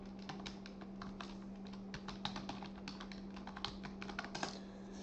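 Quiet, rapid clicking of a computer keyboard as a domain username and password are entered, irregular keystrokes over a faint steady hum.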